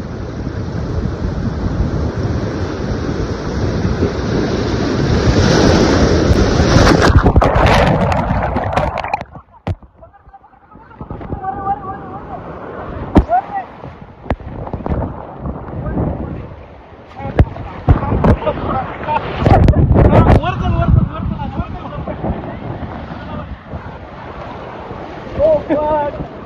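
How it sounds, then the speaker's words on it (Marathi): Sea waves surge and splash water onto a person, with heavy wind buffeting the microphone, loud crashing bursts and intermittent voices faintly under the roar. "पाणी उडत तिच्या अंगावर।"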